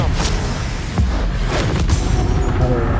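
A Confringo fire spell explodes in Hogwarts Legacy, a loud booming burst with a sharp crack near one second, followed by further thumps and crackling over dense game sound and effects.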